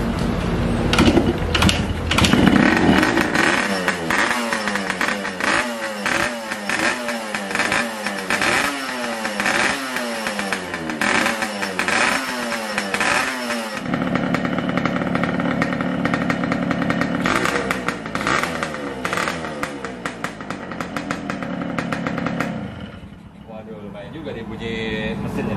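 A Yamaha RX two-stroke motorcycle engine runs loud and close, blipped repeatedly in quick revving bursts with a rattly buzz, then settling into a rough steady idle before dropping off near the end.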